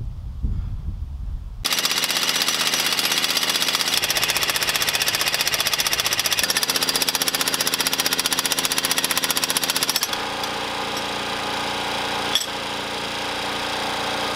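A hammer drills on a drive coupling to sink a water well pipe, pounding in a loud, continuous rapid-fire rattle for about eight seconds, then carrying on at a slightly lower, steadier pitch to the end.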